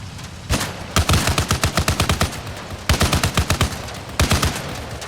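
Automatic gunfire in the Arma video game during a vehicle firefight, loud and close, fired in rapid bursts separated by short pauses.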